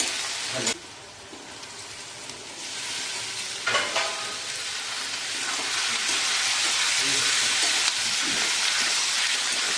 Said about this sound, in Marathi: कांदा थोडासा लालसर असा परतून घेतला। आता याच्यामध्ये टोमॅटो टाकू।